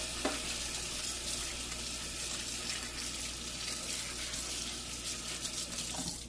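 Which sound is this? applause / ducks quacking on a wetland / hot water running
hot water running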